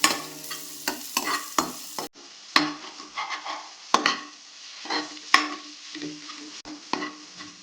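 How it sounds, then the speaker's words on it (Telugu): Ginger garlic paste sautéing in a pan while cooking malai broccoli: a steady sizzle of hot oil under repeated scraping stirs of a spoon, close and fairly loud, with uneven clinks against the pan. "జింజర్ గార్లిక్ పేస్ట్ యాడ్ చేశాక దీన్ని సాటే చేసుకోవాలి"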